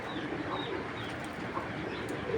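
Pigeons kept for a flying tournament coo softly in short repeated phrases against a low background murmur, with no one speaking.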